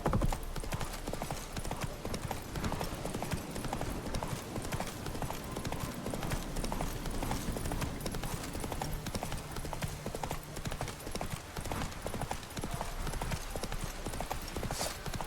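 Horse hooves clip-clopping in The Witcher 3, a fast, dense, steady galloping beat that stays loud and close throughout.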